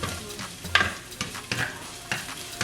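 Ginger, garlic and curry leaves sautéing in a little oil for Sinhala-style fish ambulthiyal, with a soft, steady sizzle broken by a few sharp spoon-against-pan stirring knocks, close and quiet.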